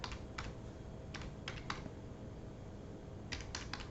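Keys tapped on a computer keyboard in short scattered clusters of crisp clicks over a steady low background hum, with no talking.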